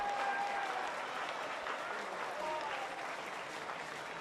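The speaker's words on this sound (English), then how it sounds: "you can hear the jubilation in the stands" Crowd in the stands at an A-League football match between Newcastle Jets and Melbourne City cheering and applauding, a steady, dense roar of clapping and voices that holds throughout.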